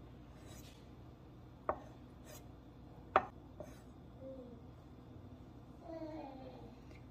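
A few sparse, quiet knife strokes tap against a cutting board as cabbage is thinly sliced for a miso tahini kale and cabbage salad, with low background noise between the cuts.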